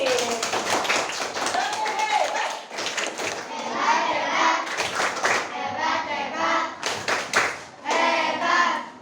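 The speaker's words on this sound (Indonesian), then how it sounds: "Tepuk tangan untuk Habib." Classroom of children clapping for a classmate, bursts of quick rhythmic claps close by, mixed with children's chatter and a teacher's voice.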